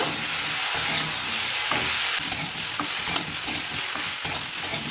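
Seeded banana with turmeric, salt and green chilies lightly frying in a pan, with a loud, steady hissing sizzle and frequent soft spatula scrapes up close.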